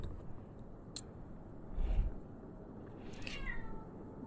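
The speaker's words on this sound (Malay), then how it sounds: "Oh, bunyi kucing." A cat lets out a single drawn-out meow near the end, fairly soft and clear against a quiet room with a faint bump just before.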